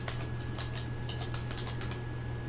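Quick, light keystrokes on a computer keyboard in a rapid irregular burst, heard close but quiet over a steady low electrical hum.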